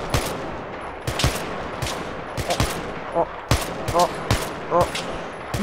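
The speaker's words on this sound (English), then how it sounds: "I tried to shoot through the pole." Gunfire in a multiplayer shooter video game, with repeated sharp shots in bursts and single cracks spread across the clip, some near and loud, others more distant, over a busy game background.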